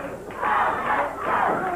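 A wrestling arena crowd at a 1981 Memphis event roars and yells in two swelling waves, a dense, loud wash of massed voices with no clear individual speech.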